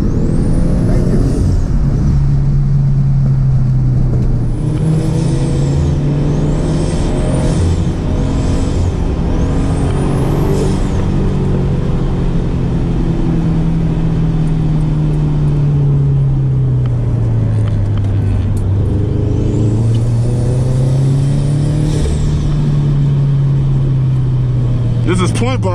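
Turbocharged Toyota GT86 show car on air suspension driven fast, its engine droning loudly and rising and falling in pitch as it accelerates and shifts, with turbo whooshes and whistles and occasional talk from the occupants over it.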